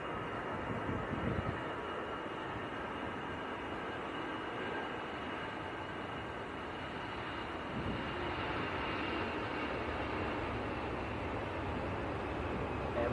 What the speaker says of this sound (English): EasyJet to Bilbao is on the roll.